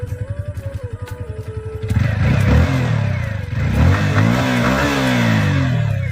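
A new motorbike's engine idles with a steady putter, then revs up loudly and pulls away as the ride begins, the pitch rising and falling through gear changes close by.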